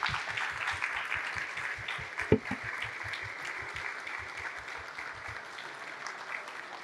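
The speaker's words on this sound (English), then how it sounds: "Can we have a big round of applause for Olivier Andries, please?" An audience at a keynote on the Paris Air Lab stage at the 2023 Paris Air Show gives sustained applause, dense and steady clapping that fades out gradually, with one louder thump partway through.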